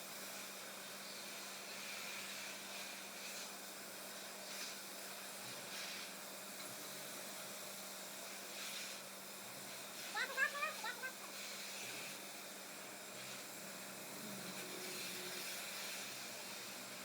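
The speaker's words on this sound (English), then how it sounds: "he's just vacuuming up some dust here that we created throughout the joint" A vacuum cleaner sucks up grinding dust on a garage floor being prepared for an epoxy, polyurea or polyaspartic coating, a faint steady whooshing hiss with a low hum, with brief faint voices partway through.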